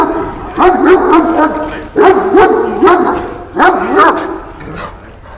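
Several loud, close Kangal dog barks in rapid clusters, deep and insistent, repeating about every second and a half.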